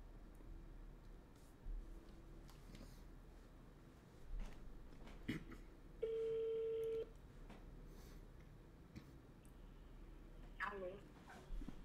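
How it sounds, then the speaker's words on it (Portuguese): A phone call being placed, with a steady electronic ring or dial tone lasting about a second midway, amid faint room noise and brief clicks. "Vou fazer até uma ligação!"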